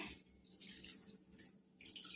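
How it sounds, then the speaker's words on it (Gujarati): Water running and sloshing over moong dal as it is rinsed before soaking, a faint, close wash of trickling and splashing with brief louder surges and no speech. "હવે 2 પાણી આપણે ધોઈ લઈશું પહેલાં એને, અને પછી પલાળી લઈશું"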